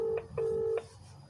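An outgoing phone call ringing back in the earpiece: two clear electronic tone bursts, the first short and the second longer, faint and close, followed by quiet.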